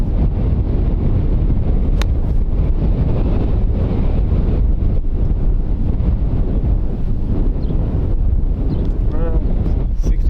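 Strong wind buffeting the microphone on an open golf course, a loud continuous roar and gusting rumble throughout, with a golfer speaking over it.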